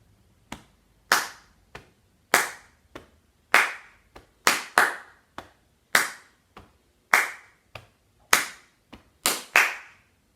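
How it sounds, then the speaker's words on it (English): A single person patting and clapping a rhythmic body-percussion pattern played twice through, with sharp distinct slaps in an uneven repeating rhythm, close and alone with no talking. "So let's do patting and clapping. I'm going to repeat the pattern 2 times."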